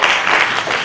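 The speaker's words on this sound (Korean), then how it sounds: "박수 좀 부탁드릴게요." Brief burst of dense audience applause for a poet at a literary concert, a steady wash of many hands clapping, loud and sustained for under a second.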